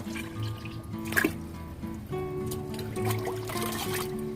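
Liquid microbial solution poured into a fermenting cow manure mix, heard as close trickling and dribbling with small splashes and drips over a low background hum.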